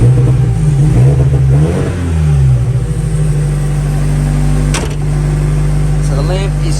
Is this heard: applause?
no